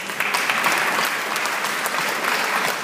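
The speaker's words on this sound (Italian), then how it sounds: "Io prima di cominciare farei un grandissimo applauso a tutte le donne" Steady, full applause from an audience at an event in Sorrento marking seventy years of women's suffrage, continuous and fairly loud with no talking over it.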